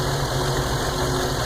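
A car engine with a factory PCV setup and an added breather idles steadily up close, a smooth, even low hum with no other sounds.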